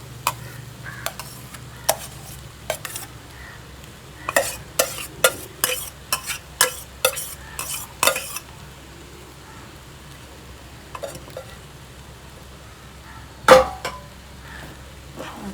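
Rice stir-fried in a pan for fried rice, with a rapid series of spatula scrapes and clicks against the metal over a faint sizzle, then a quiet stretch and one sharp knock.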